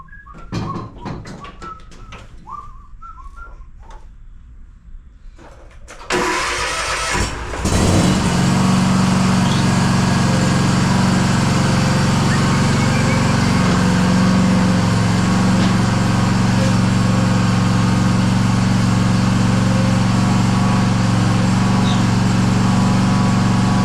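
A Simplicity Courier 42-inch zero-turn mower with a Kawasaki FR651V engine starts and roars steadily as it drives onto a ramp, loud and close. Birds chirp faintly before the engine comes in.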